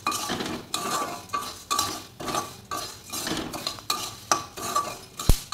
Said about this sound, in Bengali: এবার মুড়ি আর বাদাম এখানে আমি ভালো করে মিশিয়ে নেব।